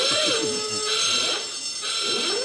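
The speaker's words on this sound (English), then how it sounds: "I can't believe I got a buzzer." Game-show penalty buzzer on a comedy panel quiz, sounding as harsh, loud electronic honks repeating in short bursts with a wavering tone, heard alone with no talk over them.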